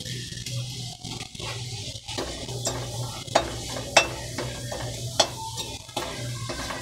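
Chopped garlic sizzles in hot oil in a pan, a constant close hiss with occasional sharp clinks and scrapes of a utensil stirring it, no talking over it.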